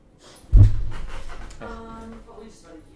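A dog breathes heavily and pants close by, one strong breath burst followed by softer rhythmic panting, with a person's voice faintly present.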